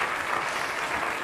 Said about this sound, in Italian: Facciamo un applauso a Povia,